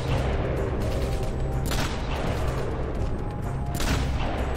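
Loud, dense gunfire rattles without pause in the Rogue Trooper video game, with heavier blasts standing out about two and four seconds in.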